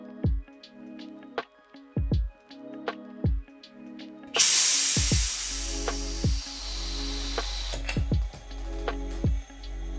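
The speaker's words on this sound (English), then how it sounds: "we need to purge our keg" Pressurized gas hisses into a beer keg during purging, a loud broadband rush starting midway and holding steady, after a stretch of intermittent clicks and clanks from the fittings.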